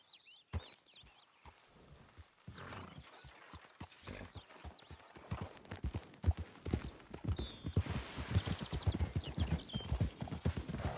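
A horse gallops in the Red Dead Redemption 2 video game. Hoofbeats start sparse, then build to a fast, steady, loud clip-clop rhythm, with a brief whinny and snorts and a faint bird-like call in the background.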